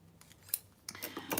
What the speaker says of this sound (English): You can use your smaller scissors to get in there and cut the smaller details.